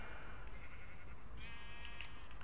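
A sheep in the Minecraft video game on PS4 bleats a couple of times over a steady background hum, the nasal calls mid-loud and close, with no talking.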